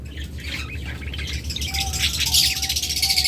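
A breeding pair of pet cage birds chirps and squawks over a constant background rattle and hiss, the calls growing busier and louder toward the end.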